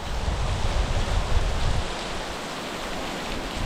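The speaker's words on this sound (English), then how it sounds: "Down onto the waterfall right here." Rushing water from a waterfall by a bridge pours steadily nearby during a storm, a dense hiss with a deeper rumble that surges in the first half.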